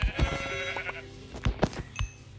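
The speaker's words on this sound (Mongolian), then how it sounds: "Уг нэг 3 хонь байна л гэхдээ өнгө нь үргэн." Sheep bleat in the video game Minecraft, with several short, fairly close bleats and a few soft thunks in between.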